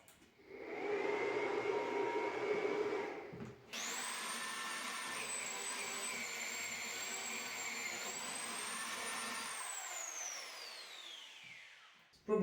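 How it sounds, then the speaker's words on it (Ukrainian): An electric drill, powered through a 1500/3000W pure sine wave inverter, bores into a pine wood block with a loud, steady, high motor whine. Its pitch shifts slightly as it works, then winds down at the end. "просверлю, просверлю ось такий є сосновий брусочок"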